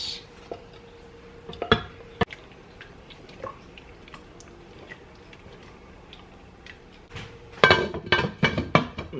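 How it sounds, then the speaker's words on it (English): Cooked rice being stirred into baked chicken soup in a pot, with sparse soft clinks and knocks of a utensil against the pot, then a denser flurry of scraping, clattering stirring strokes at the end. "So now we just need to mix in the cooked rice."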